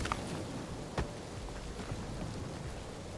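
Steady rain patters down in the Guardians of the Galaxy video game, a continuous dense hiss with a single sharper drop or knock near the start, and no voices.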